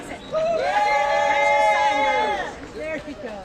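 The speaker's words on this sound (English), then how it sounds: "Crowd, you're going to clap for the ones that you like best." A crowd at a rally of Texas public school advocates lets out a sustained, loud cheer of many overlapping voices that swells and then fades, with no distinct clapping standing out.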